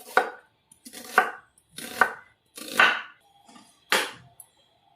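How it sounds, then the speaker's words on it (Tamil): A knife chopping an onion into small pieces on a cutting board gives five sharp, evenly spaced, close-up thuds about a second apart, with no other sound around them. "அதுக்கு நான் ஒரு ஆனியன் எடுத்திருக்கேன். அதை நம்ம குட்டி குட்டியாக கட் பண்ணிக்கலாம்."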